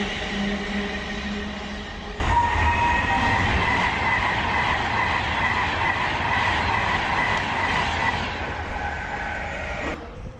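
A passenger train on a main railway line between Crewe and London Euston rushes past at close range with a steady, loud roar and rail rumble that surges after the start and lasts the whole clip before easing at the end.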